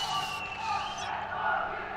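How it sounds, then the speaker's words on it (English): Dense crowd roar at a VALORANT OFF//SEASON India esports event, GE vs VIT, a steady wall of cheering and screaming from a home crowd filling the arena, with some voices on top. "I just listened to that crowd"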